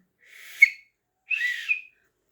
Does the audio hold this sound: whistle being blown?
yes